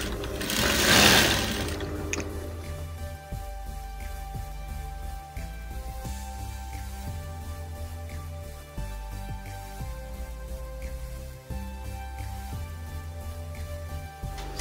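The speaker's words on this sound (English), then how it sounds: "So we sew with the 1/2 inch allowance" A sewing machine stitches a danshiki garment with a half-inch seam allowance. It runs in steady bursts of rapid mechanical clatter broken by short pauses, preceded by a brief rustle.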